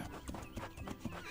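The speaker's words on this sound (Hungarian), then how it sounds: "A ló pedig nyargalt utána." Horse galloping in a cartoon scene, rhythmic hoofbeats in quick repeated clip-clop pulses, fairly close under a soundtrack bed.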